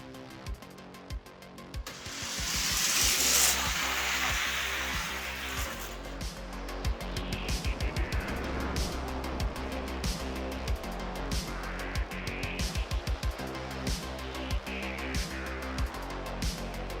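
Die-cast Hot Wheels toy cars, the metal Fangula and Astro Funk, race down a drag track in a quick rolling whir, followed by a long run of sharp rhythmic clicks and rattles, fairly close and with no voices.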